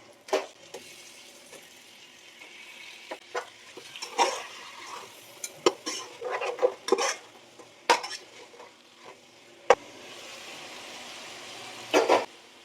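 About three-quarters of a kilo of chicken added to a pot and stirred, giving a string of close, sharp clinks and scrapes of a spoon against metal over a faint sizzle, with quieter pauses between bursts.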